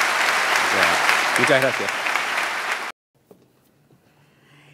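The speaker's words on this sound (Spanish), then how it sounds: "realmente me gustaría dar un aplauso fuerte para ellos y agradecimiento" Audience applause at the Conaprole 80th anniversary gala at SODRE fills the room for about three seconds, loud and dense with a speaking voice over it, then cuts off abruptly into near silence with a brief word afterward.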